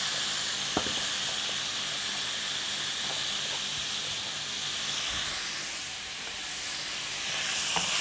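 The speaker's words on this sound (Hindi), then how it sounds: "चिकन को भी साथ साथ फ्राई करते रहते हैं" Chicken sizzles in a pan with ginger, garlic and onion paste, a steady close hiss of frying that carries on throughout with occasional faint clinks of stirring.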